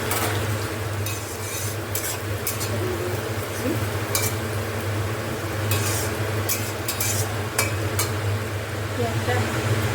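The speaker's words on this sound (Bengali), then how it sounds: "পেঁয়াজটা ভাজা হয়ে গেছে।" Chopped onions frying in a little white oil in a pan for Maharani chicken, a steady close sizzle with scraping stirs and occasional utensil clinks running throughout.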